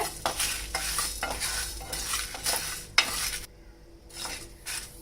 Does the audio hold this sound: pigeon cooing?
no